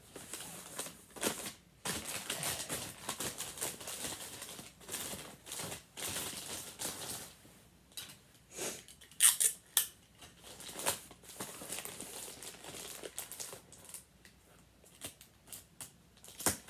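Scissors snip through wrapping paper while presents are being wrapped, with irregular crisp cuts and paper crinkles at close range, scattered in short bursts over a quiet room.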